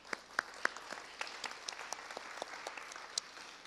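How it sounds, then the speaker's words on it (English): Sparse audience applause at an evening school board candidate forum, scattered individual claps standing out against a soft, fairly quiet patter of hands. "So give a round of applause for yourselves."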